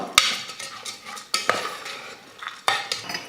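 Rice and lentils being roasted in ghee for a South Indian breakfast dish, stirred with a metal spoon: a few sharp clanks against the pan separated by soft scraping and a faint crackle, close up, no talking.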